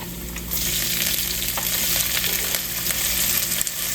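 Three small chopped garlic cloves fry in groundnut oil, giving a steady, close, bright sizzle with light stirring clinks, alone with no talk.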